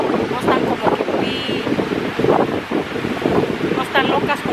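Gentle sea waves and gusty wind at a beach rush and buffet the microphone, under someone talking through most of the stretch.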